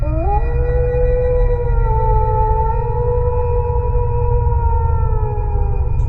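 Dogs howl in a 3D animated horror cartoon, a long sustained wailing howl with a rising start, joined by overlapping howling tones over a steady low rumble, loud and continuous with no talking.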